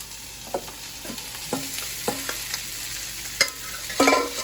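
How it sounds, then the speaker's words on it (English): Marinated tempeh sautéing in a pan: a constant frying sizzle is broken by a series of sharp spatula scrapes and clacks at irregular intervals, busiest toward the end, with no talking. "now we're gonna saute this"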